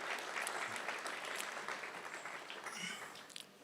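An audience at a Plasma showcase event in New Zealand applauds, a dense wash of clapping from many hands that holds steady at a moderate distance, then thins near the end.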